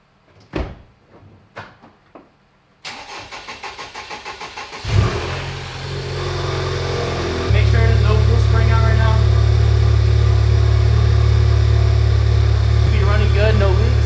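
A car engine cranks and catches after a few nearby knocks and clunks, then settles into a loud, steady idle that rises slightly in pitch and holds.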